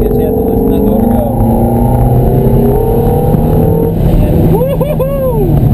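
A Ferrari engine accelerating on the track at Candlestick Park roars loud and close throughout, holding a sustained growl before rising pitch sweeps near the end as the revs climb.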